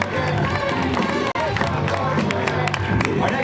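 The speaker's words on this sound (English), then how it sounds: "give a round of applause for Julia from the South" Crowd applause and cheering at a 2006 Universal Studios animal show, with steady clapping and shouts from a large audience, loud and continuous, with a brief dip partway through.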